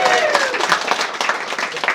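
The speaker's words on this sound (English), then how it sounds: "Give yourself an applause." Audience applause fills a small comedy club at The Stand in Edinburgh, a dense, steady patter of clapping with crowd voices mixed in, close and fairly loud throughout.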